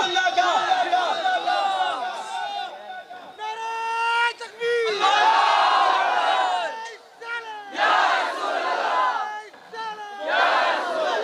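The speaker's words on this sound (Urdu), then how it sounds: "نعرہ لگا یا رسول اللہ کا" A large crowd at a devotional naat gathering in Silchar, Assam, loudly chants the Ya Rasool Allah slogan in repeated unison bursts, with a lead voice calling between the massed responses.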